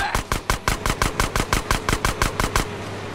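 Rapid automatic gunfire in the video game GTA San Andreas: a steady burst of about fifteen loud, evenly spaced shots over three seconds, alone and close.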